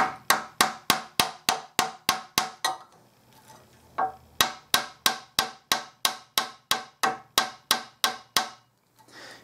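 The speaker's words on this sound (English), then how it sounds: "You may be wondering why I'm hitting it hard with a rawhide mallet, but not with the little dent hammer, and that's because this is not steel." A rawhide mallet strikes a brass bass trombone handslide during dent removal: about twenty sharp, close knocks in a steady, even rhythm. There is a brief pause midway, then the blows resume.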